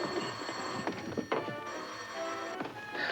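An old-fashioned telephone bell rings in short repeated bursts, fairly close, with some clunking sounds in between.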